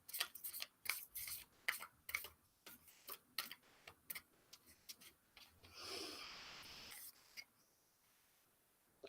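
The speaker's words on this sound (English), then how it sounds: "One more shuffle." Tarot cards being shuffled by hand during a reading, a close run of sharp irregular ticks and flicks, then a brief rushing riffle burst near the end before the sound tapers into quiet.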